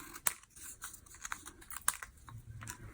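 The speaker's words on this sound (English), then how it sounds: "I'm going to cut this one down the middle like this and cut the ends off of these two." Punched paper labels for a nautical fun-fold greeting card are cut with scissors, giving faint, close, irregular snips and light paper rustles without any voices.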